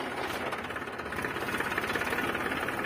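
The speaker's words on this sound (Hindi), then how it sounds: "देखो ट्रैक्टर चल गया" A tractor engine runs in a farm field with a computer leveller, a loud, rough, steady chugging with a fast knocking pulse and no talk over it.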